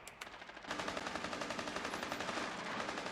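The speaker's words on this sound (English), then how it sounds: "How many times do I gotta shoot this guy, dude?" Rapid automatic gunfire from the Rainbow Six video game rattles in a dense, continuous burst after a couple of brief opening shots, loud and close with no talking over it.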